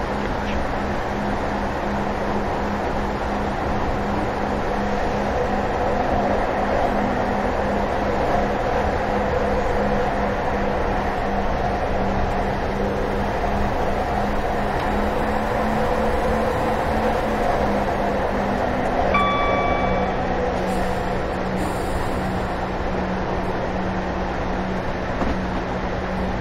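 Passenger train running toward Severn Tunnel Junction in Train Simulator 2018, a steady loud rumble and rail noise with a sustained low engine drone, a brief tonal whine near the end.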